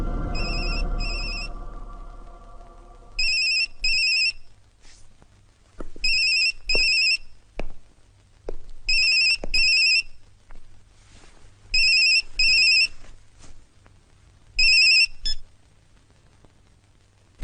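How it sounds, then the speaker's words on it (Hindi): A mobile phone ringtone sounds loudly in paired bursts of bright electronic tones, repeated about six times with short gaps, after a fading low rumble at the start. No talking. "यशवंत को मोबाइल पे फोन लगाओ"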